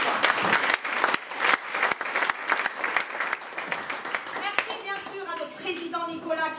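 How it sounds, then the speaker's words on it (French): Audience at an evening gathering for Alsatians and Lorrainians in Paris breaks into loud, dense applause that thins toward the end while a voice speaks over the tail. "On peut l'applaudir encore une fois."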